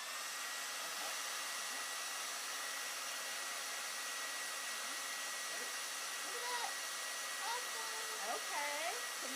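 A hair dryer blows air steadily upward at a ping pong ball, its constant whirring close and unbroken, with faint voices talking over it.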